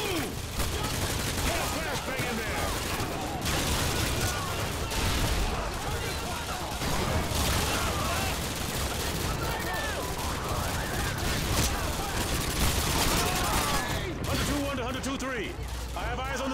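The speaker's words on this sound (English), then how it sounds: "We're taking heavy fire from the school." Sustained heavy gunfire and explosions in the PS3 game Call of Duty Modern Warfare 2 fill the whole stretch with dense, loud battle noise, while game voices speak over the din.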